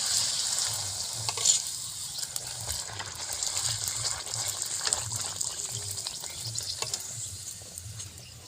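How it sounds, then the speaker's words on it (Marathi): Puri deep-fries in hot oil, a continuous bubbling sizzle with a soft, rhythmic low thudding beneath it. It sounds close and fairly quiet, with one brighter splash of hissing near the start and no speech. "हे पुरी आपण तळून काढली आहे तेलामध्ये"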